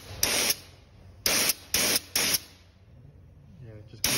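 Fluid Film rust protection fluid sprayed as a mist onto an untreated metal surface: four short hissing aerosol bursts, one long followed by three quick ones, then a fifth burst at the end, close and fairly loud with quiet gaps between.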